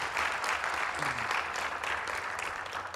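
Audience applause at a tech talk, a steady wash of clapping that fills the room at even strength throughout, with faint voices mixed in underneath.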